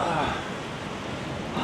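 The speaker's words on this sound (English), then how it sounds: "the wind, man. It is a windy day." Gusty wind buffets the microphone along the Blackpool promenade on a blustery September day, a loud broadband rush with no pauses through the short stretch.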